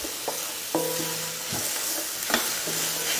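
Onion sautéing with Chinese sausage in a pan for pancit canton, a steady close sizzle broken by a few sharp scraping stirs and clinks of a utensil against the pan, with no voices.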